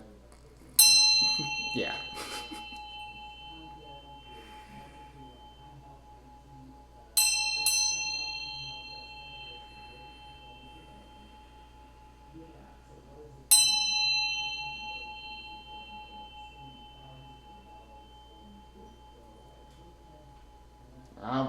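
Bell-like strikes ring out three times at roughly six-second intervals, each a clear metallic tone that decays slowly, with faint background noise and a brief spoken word near the start.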